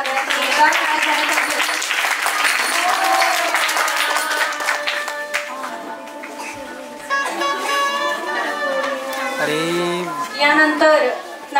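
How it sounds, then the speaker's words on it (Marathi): Audience applause at a Naradiya kirtan festival honouring ceremony, sustained crowd clapping mixed with music and a voice speaking over it, with the clapping thinning toward the end. "टाळ्या वाजवा सगळ्यांनी."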